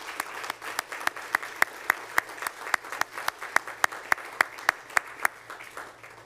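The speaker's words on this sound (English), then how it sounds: "Can we give the employees of the City of Frederick who made this possible a round of applause?" Applause at a city Hispanic Heritage Month event: a modest audience claps in a sparse, fairly regular pattern of crisp individual claps, close and clear, with one clapper's steady beat standing out.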